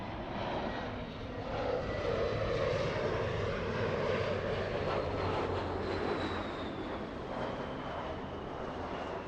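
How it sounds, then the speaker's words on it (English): JetBlue Airbus A321, flight 724 to JFK, loading up at LAX: a soft, distant engine drone with a faint whine drifting through it, steady throughout and free of speech. "JetBlue 724 flying to JFK. That's an A321."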